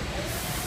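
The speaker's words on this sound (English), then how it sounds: "Spray until we know we have acetone coming out." A Cefla Prima spray machine in flush mode sprays acetone with a steady, even broadband hiss that stays constant and fairly close for the whole short stretch, with no talk over it.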